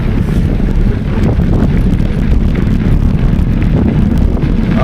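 Heavy wind buffeting a microphone on a bicycle ride with a tailwind from the south, a loud continuous low rumble that roars steadily throughout.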